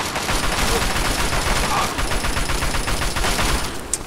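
Rapid, continuous gunfire from a World War One trench battle in Fallout 3, loud and close, with overlapping shots crackling without pause.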